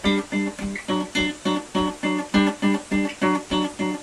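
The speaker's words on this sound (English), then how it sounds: "we're doing this kind of power chord arrangement where we go..." An electric guitar plays a two-string power chord part for the verse of a song, about a dozen evenly spaced picked chords in a steady rhythm, close and clear, with no talk.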